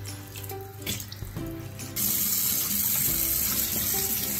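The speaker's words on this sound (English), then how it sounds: "runs into the sink, just like a waterfall" Tap water runs into a sink, a soft trickle that turns into a louder, steady gushing stream partway through.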